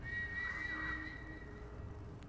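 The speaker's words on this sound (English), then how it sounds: "Do a whistle." In the Aragami video game, the player character gives a short, faint whistle, a thin sustained tone lasting under a second over quiet ambient background.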